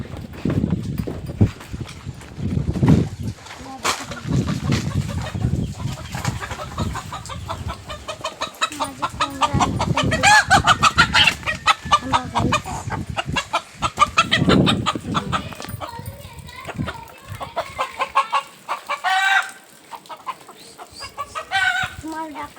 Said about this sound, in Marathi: मी स्वतःने बनवलेल्या पिंजऱ्यात मी कोंबड्या आणि कोंबडी ठेवलेले आहे